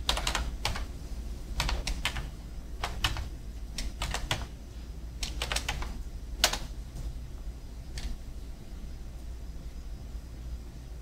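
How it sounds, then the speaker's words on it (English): Keystrokes on a computer keyboard, typed in short irregular bursts with pauses between them, close and clear over a low steady room hum. "So I'm typing cube gen."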